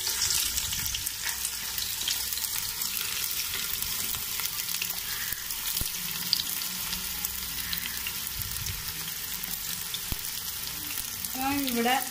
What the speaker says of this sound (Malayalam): അതൊന്ന് ചൂടായതിന് ശേഷം നമുക്ക് അരിഞ്ഞു വച്ചിരിക്കുന്ന ഉള്ളി